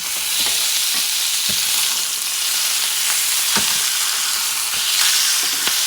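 A pork chop just turned over in a hot pan sizzles loudly and continuously, with a few sharp crackles and pops scattered through the steady hiss, close up with no voices.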